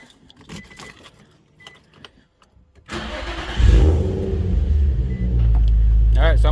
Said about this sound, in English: I'm gonna go ahead and start the car and get this rolling